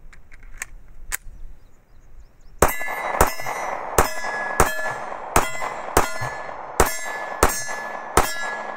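Glock 26 pistol shots at 45 feet ringing off metal cheese can targets, about ten sharp clangs at roughly even intervals, loud and close, with a few fainter pings before them.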